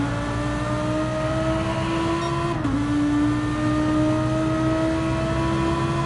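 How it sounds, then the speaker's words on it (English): Race car engine in Gran Turismo 7 held at high revs, a steady loud whine with a brief dip around a gear change before climbing again, continuous throughout with no talk. "He's certainly not driving like he's low on fuel, is he? He's revving it out."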